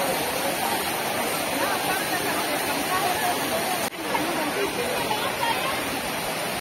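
Steady heavy rain pours down on an outdoor night gathering for a Shiv Mahapuran religious discourse, a dense continuous hiss of falling water throughout with a brief dip midway.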